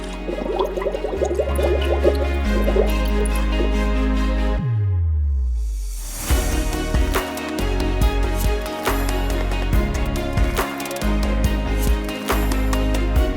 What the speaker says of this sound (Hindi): वो झट से तालाब के पास गया और एक बोतल में पानी निकाल लिया।